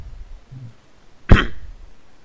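One short, sharp cough rings out close by, a sudden burst that fades quickly against a quiet, low background.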